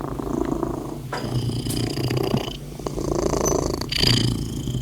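A cat purrs steadily up close, a low rumbling drone with slight rises and dips.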